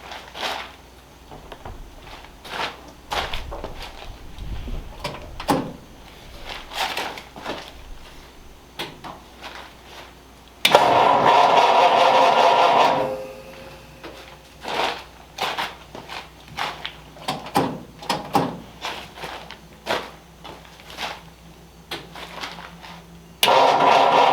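A 1936 Ford panel truck engine cranking to start after fuel system work, with two bursts of loud starter grinding, one lasting about two seconds and another right at the end, between quiet clicks and handling noises.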